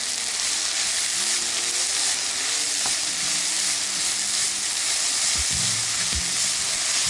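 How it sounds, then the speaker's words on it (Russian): Chopped onion sizzles steadily in a frying pan with carrot added, a dense continuous crackle close by, broken by a few brief clinks and scrapes of stirring. "Все, немного обжарила лук. Сейчас сюда же морковь."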